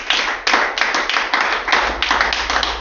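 A congregation claps together at a church service praising the Lord, a dense, steady run of close, loud handclaps with rhythmic surges and no voices.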